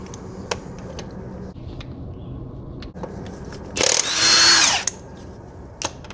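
A power tool whirs in one short burst of about a second to remove a lug nut on a Nissan Rogue wheel, amid scattered sharp clicks and knocks in a quiet garage.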